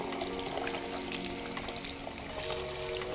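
Salon basin tap runs water to rinse a client's hair and scalp, a steady continuous splashing flow, close and even throughout with no talk.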